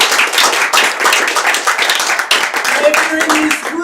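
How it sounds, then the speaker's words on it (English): Audience at a 26-hour improv comedy fundraiser gives a round of applause, a loud dense patter of many hands clapping at close range, sustained for a few seconds with voices mixed in. "So round of applause for those"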